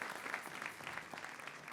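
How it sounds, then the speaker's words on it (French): A church congregation at a Sunday worship service applauds in a steady, dense patter of many hands, fairly soft and distant, lasting the whole stretch with no voices standing out. "On peut donner une bonne main d'acclamation."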